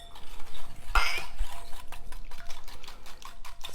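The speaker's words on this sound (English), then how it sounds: "Just gonna stir this up." Coleslaw dressing with white vinegar, sugar and heavy cream stirred in a bowl, giving a continuous rhythmic scraping and clinking of a utensil against the bowl, close and fairly loud.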